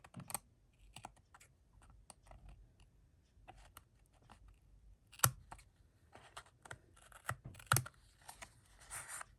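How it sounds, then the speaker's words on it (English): Scissors snip off the edges of a handmade greeting card in sparse, sharp clicks close by, irregular cuts separated by quiet gaps. "So I'm just cutting off these edges here."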